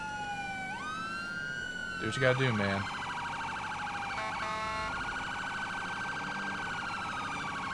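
Police car siren in GTA V with the LSPDFR mod, wailing loud and steady as it switches between tones mid-pursuit, with a rapid yelp burst partway through and someone talking over it.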